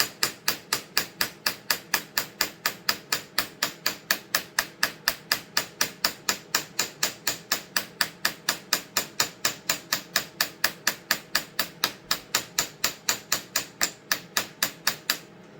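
Rapid, steady hammer blows striking leather over and over at an even rhythm, close and loud, continuing without pause.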